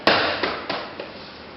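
A snap-on baseboard clicks into place with one sharp, close crack, followed by a few fainter taps that die away quickly.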